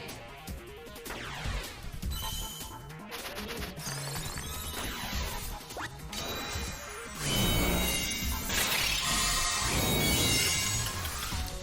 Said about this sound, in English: what changed in you that made this weird double sound effect bug start up last week? Just makes everything real loud.